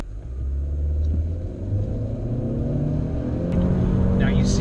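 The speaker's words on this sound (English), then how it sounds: "And now full throttle from a stop up to speed." A 2017 Honda Civic with a CVT accelerates at full throttle from a stop, its engine droning in a low, steady rumble that climbs gradually, heard from inside the car.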